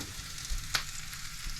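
Food sizzles quietly in a pan on a small RV stove, a soft steady frying hiss with one brief sharper crackle partway through, no voices over it.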